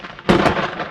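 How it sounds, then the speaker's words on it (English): A sudden loud crack of thunder from a nearby lightning bolt during a storm, hitting sharply then rolling on as a broad rumble with no talk. "Nice sound. These bolts are getting close."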